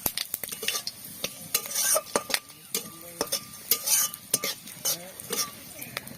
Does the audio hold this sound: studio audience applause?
no